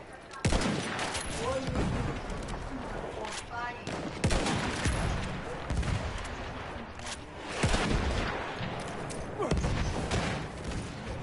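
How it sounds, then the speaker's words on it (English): Heavy, sustained gunfire in Battlefield 1 is aimed at a tank, with repeated loud booming impacts over dense battlefield chaos and faint voices underneath. "Alright, I'm shooting the tank."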